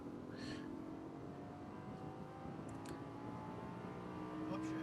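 A Lamborghini Gallardo LP 550-2 engine drones steadily on a race track, a faint, even tone heard from inside the car with a slight rise near the end.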